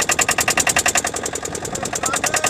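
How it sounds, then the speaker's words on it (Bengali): A small power boat on a river, out for hilsa fishing in Dhubri, Assam, putters close by with a rapid, steady pulsing engine chug, loud and alone without any voices. "এই যে আমাদের পাওয়ার বোট"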